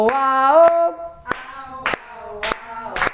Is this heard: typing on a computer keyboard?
no